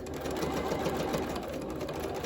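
A sewing machine stitching a pleat in a cloth face mask, a close, steady fast whirring chatter of the needle running continuously for a couple of seconds.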